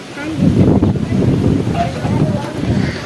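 Cold wind blowing outdoors, a loud rushing rumble buffeting the microphone continuously throughout, close and heavy, with faint voice-like sounds mixed in.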